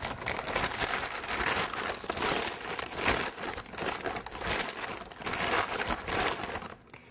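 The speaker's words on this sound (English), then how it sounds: "we're just going to open the brining bag, much like a large Ziploc bag" A large plastic brining bag like a big zip-top bag is pulled open and handled for turkey brining, producing continuous loud crinkling and rustling up close in irregular bursts, fading slightly at the end.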